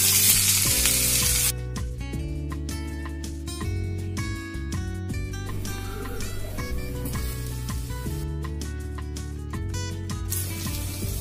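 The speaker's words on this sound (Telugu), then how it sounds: "కొంచెం వేగిన తర్వాత మనం ఆనియన్ వేసుకుందాం." Onions frying in a pan of hot oil with bay leaf, shahi jeera and red chillies for a chilli chicken curry: a loud, steady sizzle throughout, with occasional stirring scrapes and no talking.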